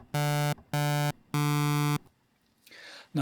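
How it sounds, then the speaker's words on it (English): Two sawtooth oscillators blended on a subtractive synthesizer sound three bright, buzzy sustained notes at the same pitch, separated by short gaps, followed by a faint noisy tail. "I'm going to blend between two sawtooths here"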